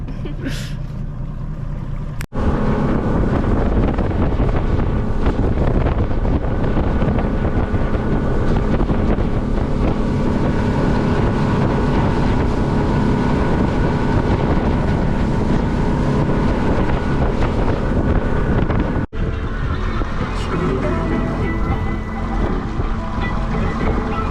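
A boat out on a sunset cruise off Key West, with steady wind roaring across the microphone and a constant engine and water rush that stays loud and unbroken throughout.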